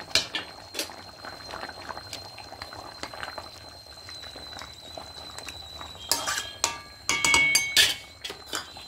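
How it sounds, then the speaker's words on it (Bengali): Fish curry broth with potatoes boiling in a pan, close bubbling and popping with irregular bursts of sharp crackles and clinks, busier toward the end, with a faint steady tone underneath. "দেখুন ঝোলটা ফুটে এসেছে।"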